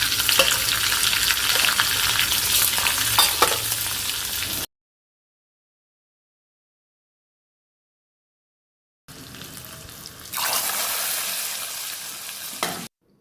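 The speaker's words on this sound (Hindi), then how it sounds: "इसमें मैं तड़का डाल रही हूँ। इसका साउंड तो बहुत अच्छा लगता है ना।" Spices tempering in hot oil for dal sizzle loudly and steadily for about five seconds, then after a silent gap the frying hiss returns, swelling louder toward the end, with faint stirring clinks and no talk.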